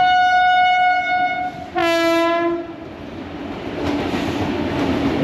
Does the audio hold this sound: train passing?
yes